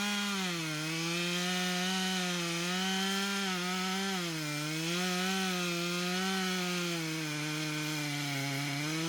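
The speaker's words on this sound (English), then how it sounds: "a tree felling team manages such a challenge using a Husqvarna 395 XPG chainsaw" A Husqvarna 395 XPG chainsaw cuts into a giant tree being felled, with a loud, close, continuous engine whine that rises and dips in pitch as the chain bites into the wood.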